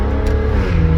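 A Maserati Ghibli SQ4 fitted with a custom-built exhaust revs in a loud, deep, rumbling burst, heard up close and on its own.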